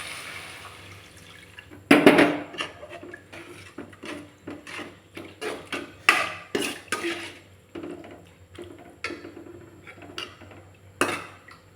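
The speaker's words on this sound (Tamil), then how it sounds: "இப்போ இதில் நம்ம வந்து ஒரு 3 டம்ளர் தண்ணி மாதிரி நமக்கு தேவையான அளவு தண்ணி சேர்த்துக்கலாம்." Water pours into a cooking pan of onion, green chilli and tomato, splashing loudly at first, followed by a string of clinks and drips against the metal pan.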